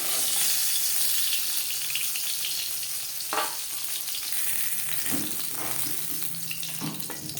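Pieces of rui fish frying in oil in a pan, giving a continuous close, crackling sizzle with faint stirring taps and no talking.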